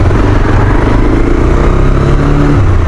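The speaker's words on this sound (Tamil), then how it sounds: "நான் இங்கே நிப்பாட்டு இந்த சைலன்சர் சத்தத்தை காமிக்கிறேன்" Exhaust note of a Bajaj Pulsar 220 motorcycle standing still, a loud, steady close-up engine drone with a slight rise in pitch near the end, no talking.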